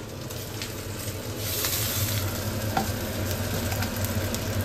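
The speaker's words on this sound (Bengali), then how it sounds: "এর মধ্যে কুমড়ো ফুলের বড়া ডুবিয়ে একই সেম ব্যাটারেই দুটোই ভাজা হচ্ছে" Pumpkin flower fritters coated in batter fry in oil, a close, steady sizzle with bubbling crackle that grows slightly louder after the first second and holds without speech.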